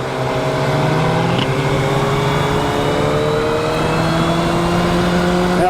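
Engine of a 2024 Suzuki Hayabusa motorcycle pulling steadily under load, its pitch rising, easing briefly near a gear shift and climbing again, loud and continuous with wind rush and no talk.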